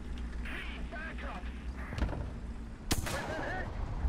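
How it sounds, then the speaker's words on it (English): An artillery strike lands in the tank combat game War Thunder, with booming impacts around the middle and again near the end under continuous excited talk and engine rumble. "Artillery strike on me!"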